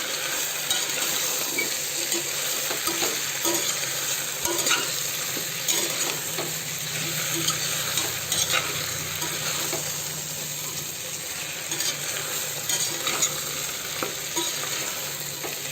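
Chopped taro root cooking in a pot for a village-style tamarind curry, with a steady sizzle and bubbling under repeated stirring scrapes and light metallic clinks, close and continuous.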